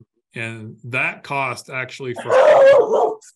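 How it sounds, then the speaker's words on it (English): A dog whimpers and yips in a series of high, whining barks close to the microphone, overlapping a man's speech during an online electric board meeting. "that's my dog, sorry."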